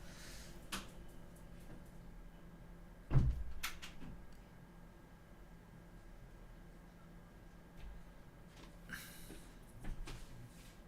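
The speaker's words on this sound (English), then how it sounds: "people just keep coming through all the time and banging doors" Doors bang in a house on a busy Sunday: one loud, heavy thud, then a few fainter knocks and clatters over a quiet room background with faint murmuring.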